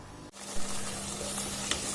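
Paneer and potato fry in a pan with a steady close sizzle and crackle, a brief clatter of stirring early on, no voices.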